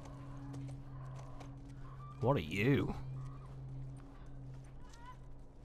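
A horse in The Last of Us Part II gives a short, loud whinny midway, over low ambient game hum with a few soft thuds, while a voice speaks briefly.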